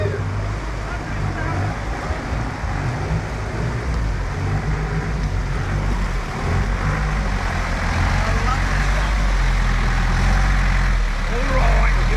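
A Mitsubishi Canter truck idles steadily on a 4WD track, its low diesel rumble continuous and close for the whole stretch, swelling slightly toward the end with no talk over it.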